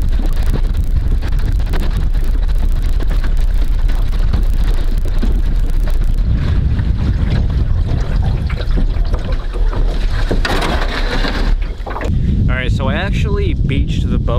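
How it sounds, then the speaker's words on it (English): Strong wind buffets the microphone continuously on a small john boat on open water, a loud broadband roar with gusts, and a motor-like hum rising near the end. "it's way too windy to be fishing out here on my little John boat"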